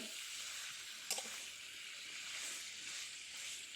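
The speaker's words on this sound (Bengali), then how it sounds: "সব একসঙ্গে দিয়ে ভালোভাবে নাড়াচাড়া করে নেব" Pigeon meat with pointed gourd, bay leaves and spices sizzles softly in a pan while being stirred, a faint steady hiss with one brief knock of the utensil.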